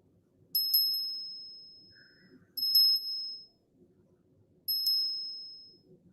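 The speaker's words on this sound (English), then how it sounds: "let me ring the bell" A small bell rings three times, crisp bright dings evenly spaced about two seconds apart, each decaying quickly over a soft low background.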